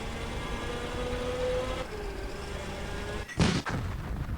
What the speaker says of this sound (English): got some direct mortar fire coming down from the hill there